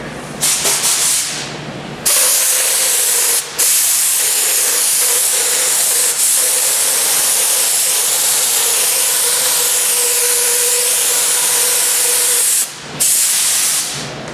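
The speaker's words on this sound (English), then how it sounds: "let's shoot some wax and grease over this" Wax and grease remover sprayed onto a Camaro door being prepped before high-build primer, a loud, close, continuous hissing spray with brief stops between bursts.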